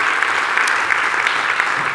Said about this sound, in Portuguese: Uma salva de palmas mais uma vez para o Ricardo Baião.